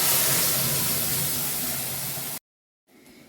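Loud, steady sizzling hiss as dal hits hot oil with mustard and green chilli, broad and close for a couple of seconds before cutting off abruptly, followed by a quiet pause and faint kitchen noise.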